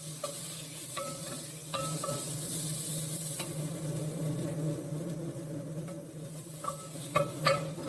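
Chopped tomato and green chillies frying in a pan for prawn biryani, a soft steady sizzle with sharp spoon scrapes and clicks of stirring scattered throughout, close and fairly quiet.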